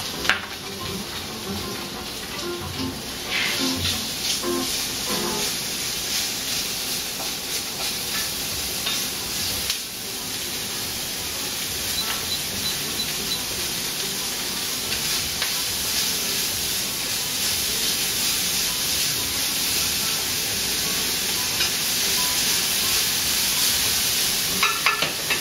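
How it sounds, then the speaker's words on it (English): Bacon sizzles and renders in a hot pan with a steady, bright crackling hiss and occasional louder spits and pops, running continuously at close range with no voices over it. "The first process to do is to render the bacon. For it we're gonna use a hot pan."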